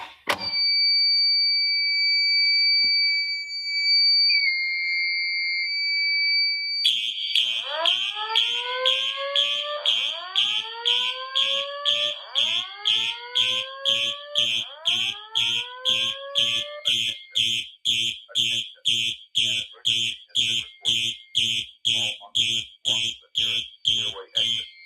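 Building fire alarm sounding after a manual pull station is pulled: a steady two-tone electronic tone, then loud repeating whooping sweeps and rapid pulsing beeps continuing throughout, with a recorded voice announcement over it.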